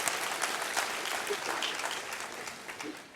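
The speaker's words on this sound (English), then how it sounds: "give yourselves a big round of applause" A live audience breaks into sustained, dense applause, a steady wash of many hands clapping at even loudness for the whole stretch, with no voices standing out.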